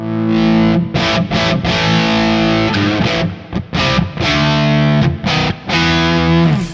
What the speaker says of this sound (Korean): 이 소리가 제가 생각하는 JTM 45 사운드가 맞아요